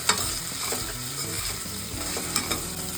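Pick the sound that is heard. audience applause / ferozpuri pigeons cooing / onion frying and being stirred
onion frying and being stirred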